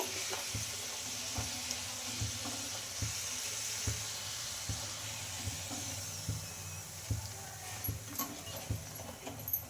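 Urad dal pooris fry in hot oil with a soft, steady sizzle and faint regular ticks, and no voices.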